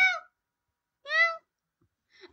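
A cat meows twice, clear and close, followed by a softer, shorter mew at the end, with quiet gaps between.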